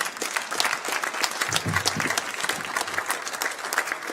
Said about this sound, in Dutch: een heel groot applaus